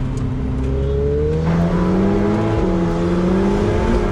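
A Ferrari 488 Pista Spider accelerates hard, its engine note climbing steadily in pitch through the gears, loud and continuous, heard close up with no talking.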